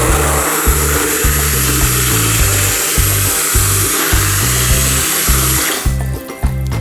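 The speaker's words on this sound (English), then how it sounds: "what you're gonna do is basically bring your blender to your bowl" An immersion blender purees a vegetable soup in a bowl, producing a loud, steady motor whir with a rhythmic pulsing churn that runs for several seconds before cutting out near the end.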